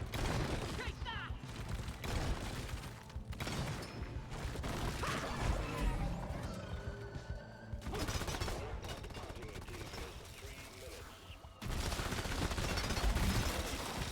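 Rapid bursts of gunfire in Deep Rock Galactic cut down waves of enemies. Dense, loud machine-gun volleys and scattered single shots run for most of the stretch, broken by brief pauses, with mechanical clanks and crashes mixed in.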